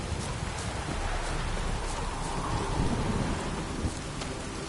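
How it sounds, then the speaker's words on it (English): Steady heavy rain pours down in a dense, continuous hiss, with a low rumble of thunder underneath and no voices, in the video game The Witcher 3. "This downpour's a bastard, it is."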